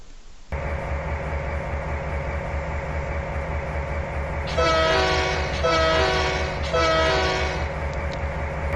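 Locomotive on the Tidewater Railroad in Trainz 19, a steady engine rumble running throughout with a loud horn blowing in three long blasts partway through.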